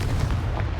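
A Confringo explosive spell blast in Hogwarts Legacy: a brief, heavy, low booming burst that fills the whole moment.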